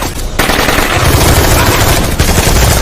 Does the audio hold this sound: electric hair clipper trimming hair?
no